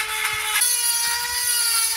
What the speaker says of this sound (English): I'm going to utilize my Dremel, and it'll maybe help make the hole a little bit bigger too.